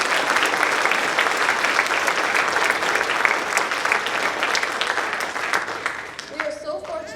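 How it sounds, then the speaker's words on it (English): An audience at the Miss Arcadia Pageant applauds the event's sponsors, a full, sustained wash of many hands clapping that holds steady and then begins to thin out near the end. "Please give these sponsors a round of applause."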